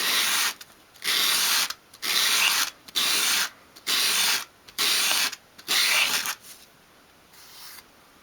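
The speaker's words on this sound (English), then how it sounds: "with a piece of sandpaper flat on your work surface, hold the piece at a 45-degree angle and sweep it towards you" Sandpaper laid flat rasps against a small wooden dolls house piece held at an angle, seven even back-and-forth strokes with short pauses between, close and clear.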